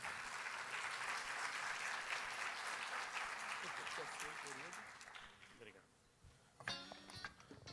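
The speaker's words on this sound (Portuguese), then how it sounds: "Uma salva de palmas." Audience applause greeting a speaker at the Conecta 2012 event, dense sustained clapping for about five seconds that then fades out, followed by a brief pause and a few scattered sounds.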